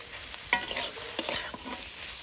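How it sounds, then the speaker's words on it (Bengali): Mushrooms frying together with potatoes in a pan, quiet sizzling broken by a few sharp stirring scrapes and clinks. "আলুর সাথে মাশরুমটা কিছুক্ষণের জন্য ভেজে নিচ্ছি।"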